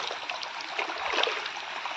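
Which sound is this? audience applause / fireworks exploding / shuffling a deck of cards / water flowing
water flowing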